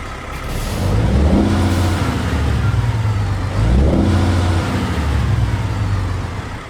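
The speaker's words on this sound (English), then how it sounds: "a really good sounding Cummins X15 that is included with this truck mod" Cummins X15 engine in a 2018 Volvo VNL truck in American Truck Simulator, revved twice in rising-then-falling sweeps, loud and close with a deep rumble, no talking.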